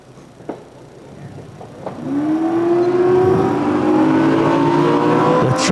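A fire truck engine at the Suffolk County Championship drill roars up loud and close with a rising, sustained rev after a couple of faint clicks, holding a strong climbing whine to the end.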